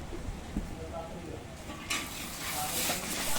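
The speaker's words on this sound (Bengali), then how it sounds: "এবার মশলা ভালোভাবে কষিয়ে নিচ্ছি 5 মিনিটের মতো।" In a large wok, masala with chilli powder, turmeric, green chilli and cashew paste fries while being stirred, giving soft scraping and a sizzle that grows louder midway, with faint voices in the background.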